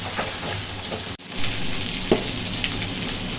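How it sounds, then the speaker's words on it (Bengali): Large roe-filled gulsha fish frying three or four at a time in hot oil, a loud continuous close sizzle and crackle with a brief spatter pop partway through. "মাছগুলো সুন্দর করে এখন ভেজে নেবো একটা একটা করে"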